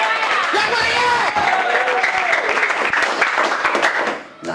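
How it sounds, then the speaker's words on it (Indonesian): A church congregation bursts into applause and cheering, with clapping and raised voices blending into a loud crowd roar that fades near the end. "Berikan sorak-sorai buat Tuhan."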